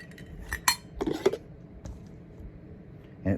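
A metal lid fitted onto a Stanley camping cook pot, giving a few sharp metallic clinks and scrapes close by, scattered over a few seconds with quiet gaps between.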